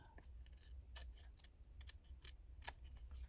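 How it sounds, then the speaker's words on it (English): Several sharp snips of scissors cutting paper from vintage sewing magazines, crisp and close, spaced irregularly over a low steady hum, with faint speech in the background. "Taking my scissors."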